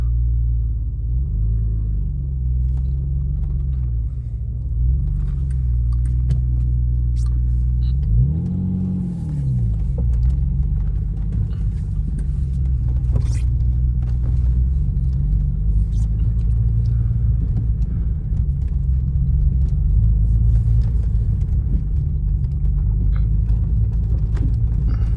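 An Alfa Romeo 155 with a Busso V6 engine rumbles steadily throughout, with a few rising revs as it accelerates, heard from inside or close by; no talking.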